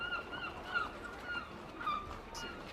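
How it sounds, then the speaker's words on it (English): Faint birds calling in the background, with a few soft honking, goose-like cries repeating over low steady room noise. "I hear birds in the background."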